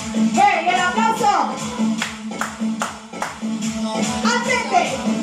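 Rhythmic hand claps in an at-home aerobics workout set to music, sharp claps repeating over a steady musical beat with an instructor's voice and cheering mixed in.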